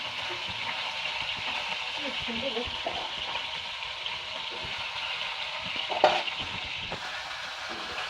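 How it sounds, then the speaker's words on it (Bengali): Several carp fish fry together in a pan of hot oil, giving a steady, moderate sizzling hiss with a brief utensil clatter partway through and no talking. "সবগুলো মাছ একসাথে ভেজে নিব"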